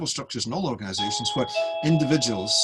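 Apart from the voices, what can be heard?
doorbell ringing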